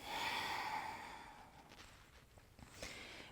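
A long, audible exhale through the nose during a seated yoga twist in a morning practice, loud at first and tapering off, followed by faint shuffling and small movement sounds.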